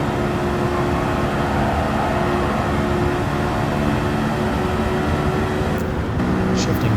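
Honda S2000 engine in a Gran Turismo 7 time trial at Grand Valley Highway, a steady loud drone holding at high revs throughout, with a brief shift in tone near the end.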